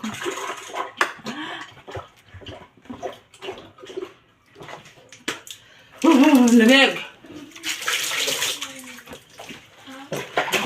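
Water is poured while bathing, splashing and pouring in bursts while a person talks and laughs, with a steady pour continuing near the end.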